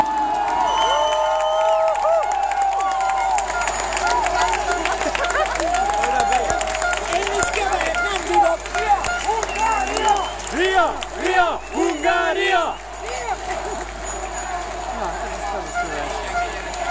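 A large outdoor crowd of Hungarian fans cheers and shouts for the arriving national team bus, with a loud, continuous roar of massed voices and whistles, and an amplified announcer speaking over it.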